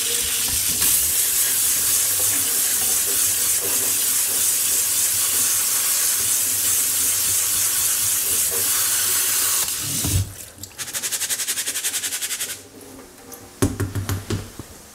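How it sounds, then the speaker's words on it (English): Arborio risotto rice rinsed under a running kitchen tap, with a steady loud rush of water for about ten seconds, then shorter bursts of splashing and stopping. "I'm just going to give it a quick rinse."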